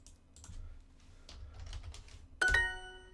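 Scattered taps on a computer keyboard during a Duolingo language lesson, light and uneven, followed by a bright ringing chime that lingers at the end.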